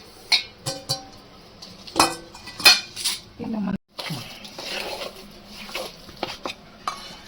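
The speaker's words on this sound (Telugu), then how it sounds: "మంచిగా మిక్స్ చేసుకొని నూనెలో మంచిగా కలుపుకోవాలన్నమాట." Utensil scraping and stirring a mango pickle mixture with oil in a pot, with irregular clinks and scrapes at close range, some faint background sounds between strokes.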